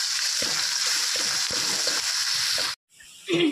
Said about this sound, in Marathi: आणि हे छान तेलामध्ये परतून घ्यायचं